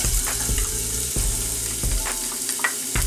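Hot oil sizzles steadily in a pan during a heat check before clams in butter shallot broth, loud and close, with a few scattered clinks and stirring knocks.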